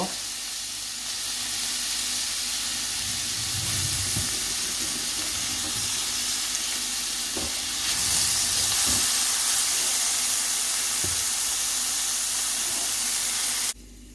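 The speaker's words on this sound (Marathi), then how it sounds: "तेल गरम जालें म्हणटकीर मातशें स्लायस करून पियाव घालया आनी मातशें भाजून हाडया" Sliced onion frying in hot oil in a pan, a broad steady hiss that grows louder midway, with occasional soft utensil knocks beneath; no voices.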